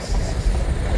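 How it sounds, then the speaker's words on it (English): A long grain train rolls past on the rails in a steady, loud rumble of wheels and cars with no break, close by and with no one talking. "The grain train!"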